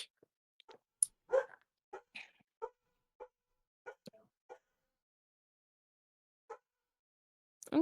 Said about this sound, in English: I really hope the dog barking doesn't get picked up on the mic.